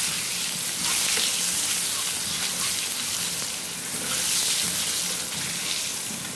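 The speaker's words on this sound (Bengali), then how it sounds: "পাশের একটা কড়াইতে ডিম ভেজে নিব" Eggs frying in a pan set beside the wok while spiced egg curry and khichuri cook, a steady broad sizzle with soft crackle and faint watery hiss, fairly loud and continuous without talk.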